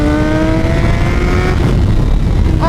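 Suzuki GSX-R1000R sport bike engine wails loud and close as it accelerates through an S-turn, its rising pitch easing off midway, then snapping back up sharply on corner exit, with no voices.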